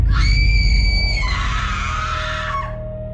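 A woman lets out one long, loud, high-pitched scream as a horror story sound effect. It is sustained for about three seconds, close and alone, then cuts off.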